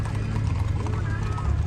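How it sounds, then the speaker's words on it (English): Horses' hooves clip-clop on pavement at a street car show, a continuous loud rhythmic clatter with engine rumble and crowd noise underneath. "Damn, they got the horses, boy."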